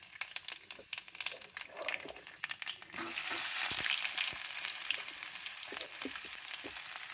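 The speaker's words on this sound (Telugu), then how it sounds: "ఇప్పుడు ఫస్ట్ పోపు దినుసులు అండి వేస్తున్నాను" Tempering spices dropped into hot oil for sabudana upma: a few clinks and rustles, then a sudden loud, broad sizzle that keeps crackling steadily and close, with no talk.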